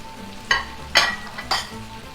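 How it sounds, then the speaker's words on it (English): Shrimp and tomato sizzle in a pan as a utensil turns them in three evenly spaced scraping strokes over a constant frying hiss, close by. "we give a nice turn on the shrimp and the tomato"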